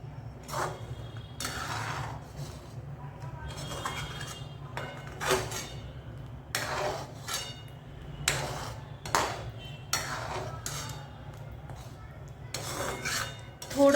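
A spoon stirs thick, creamy white sauce for pasta in a pan, making repeated close scraping strokes against the metal over a steady low kitchen hum.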